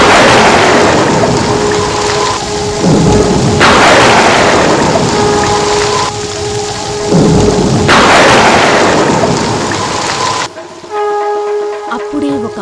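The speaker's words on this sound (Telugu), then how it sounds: "బయట బాగా పెద్ద వర్షం పడుతోంది." Cartoon sound effect of heavy rain and rolling thunder, loud and steady with repeated thunder swells roughly every few seconds, a sustained tone and faint music running underneath, dropping to quieter rain near the end.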